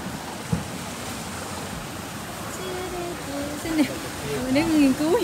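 Ocean waves wash steadily along the rocky shoreline at Heisler Park beach in Laguna, a constant broad roar of surf that swells slightly toward the end, with wind and faint voices mixed in underneath.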